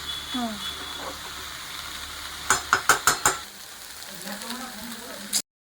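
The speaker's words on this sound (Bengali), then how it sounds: "চিকেনটা দিয়েও একটু ভেজে নিতে হবে আগে।" Chicken frying in a pan gives a steady close sizzle, broken midway by a quick run of five sharp metallic clinks from stirring, then one last knock; a voice talks faintly under the frying.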